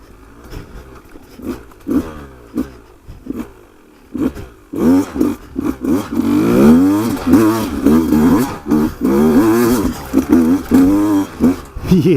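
A 2019 Beta 200RR dirt bike climbs a trail in second gear, its two-stroke engine starting with short revving bursts, then holding a loud, rising and falling roar close by.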